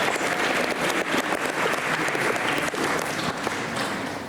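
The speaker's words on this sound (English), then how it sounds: "Let's give yourselves a round of applause for making today's point." Students clap for themselves at a school assembly, a loud, dense burst of applause that runs steadily for a few seconds without any speech.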